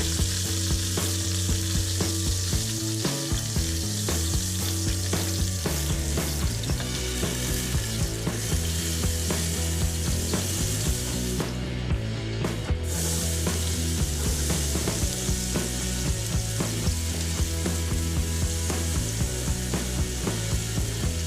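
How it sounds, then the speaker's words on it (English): Onion and garlic fry loudly in a pot that held browned lamb shanks, a continuous close sizzle with repeated scraping and stirring running throughout. "put in your onion and garlic, and give it a good stir"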